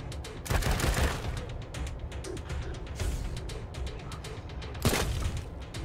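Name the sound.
gunfire from video game Wasteland 3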